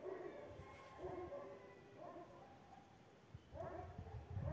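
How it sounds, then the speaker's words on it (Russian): Several dogs barking outdoors at a distance, a few separate bursts of barks and yips across the stretch with quiet gaps between. "Боже, собаки лают"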